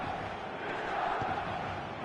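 Dense crowd noise filling the San Siro stadium during a football video game match, a steady roaring murmur of many voices that holds at an even level throughout.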